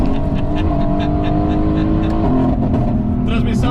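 A Mercedes-Benz AMG GT S accelerates on São Paulo streets, a loud, steady engine roar heard from inside the car, continuous throughout with rising tonal notes.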